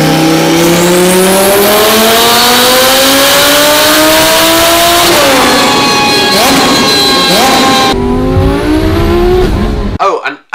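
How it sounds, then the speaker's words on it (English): A twin-turbo Lamborghini Huracan widebody revs hard and loud, its pitch climbing steadily before dropping into rapid blips and pops, then cutting off abruptly near the end. "Just take a listen to one of Sheepy's twin turbo Lambos."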